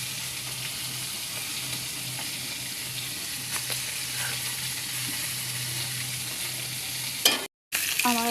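Garlic and onion paste frying in a pan, a faint, even sizzle with light stirring scrapes, steady and close, broken near the end by a brief gap and a clatter.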